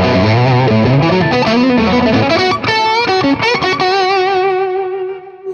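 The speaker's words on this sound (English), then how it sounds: "This is just straight into the amp, Lone Star lead channel, but I'll leave my echo on" Electric guitar with a fat, distorted lead tone played straight into a Lone Star amp's lead channel, echo effect on; sustained notes and bends ring out loud and continuous, trailing off with echo at the end.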